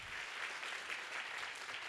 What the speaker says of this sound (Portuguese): Palmas para Paula Jacó